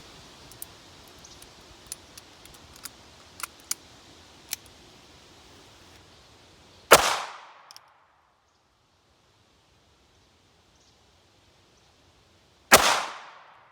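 Two sharp, loud gunshots about six seconds apart from a 2-inch-barrel NAA Black Widow .22 WMR revolver firing 40 grain Fiocchi rounds into a railroad tie, after faint handling clicks and rustles.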